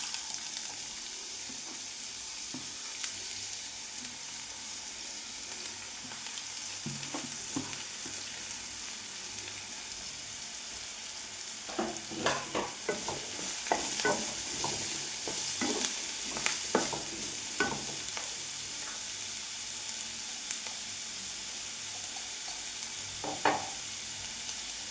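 Sliced onion, minced garlic and curry leaves sizzle steadily in hot coconut oil for okra and egg thoran, with a constant hiss broken by clusters of sharp crackles and spatula scrapes in the middle stretch, no voices.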